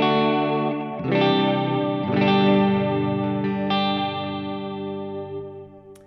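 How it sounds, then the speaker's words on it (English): Les Paul electric guitar on its middle pickup position, played through an amp with delay and reverb: sustained chords struck about three times, each ringing bright and full with long echoing tails that slowly fade. "Here's just the amp with the main delay and reverb."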